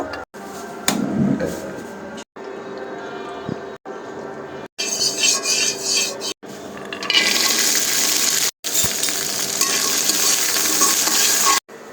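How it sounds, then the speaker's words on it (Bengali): Washed peanuts frying and being stirred in a pan, a wet sizzle and scraping that come in short separate stretches and grow louder and hissier in the later part. "এখন বাদামগুলো ভেজে নিব।"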